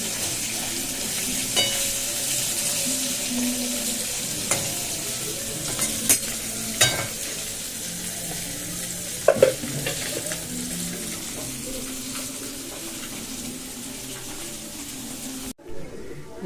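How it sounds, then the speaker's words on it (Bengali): Fish frying in a pan on a home stove for a fish curry, a steady broad sizzle running throughout with occasional louder spits and clinks of a utensil, close and alone without talk. "এই যে মাছ ভাজছি, মাছের ঝোলটা করব"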